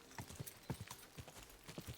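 Horse hooves clip-clop in the Kingdom Come Deliverance 2 video game, a quiet, steady run of paired hoof strikes at a walking pace against soft background ambience.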